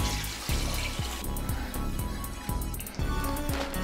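About 300 ml of water poured into a pot of cashew curry, a close splashing pour with gurgling and dripping that pulses in short surges over a few seconds.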